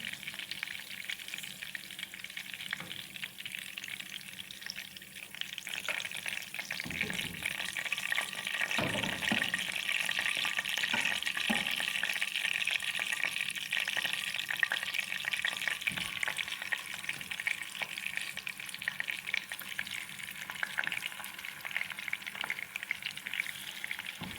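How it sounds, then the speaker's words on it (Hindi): Gola kababs sizzle in hot oil with a constant, even crackle. A fork turning them adds a few scattered knocks and clinks partway through, and no one speaks. "थोड़ा सा हम इस तरह कांटे से इसमें फ्राई कर लेंगे ताकि और भी इसमें जाए और अच्छी तरह ये पक जाए।"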